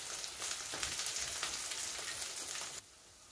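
Aloo poha snacks fry in oil over a low flame with a soft, steady sizzle and faint crackles that cut off abruptly near the end, and no one talking.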